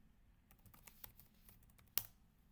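Fingers tap out a terminal command on a computer keyboard, a quiet run of separate light keystrokes ending in one sharper, louder click, alone with no voices.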